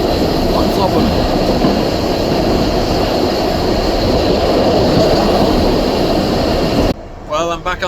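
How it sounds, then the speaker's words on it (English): Loud, steady rumble and rattle of a moving steam train heard from inside a carriage on the Port Erin to Douglas line, Isle of Man, ending abruptly as a voice starts speaking. "I'm back on the train heading back to Douglas"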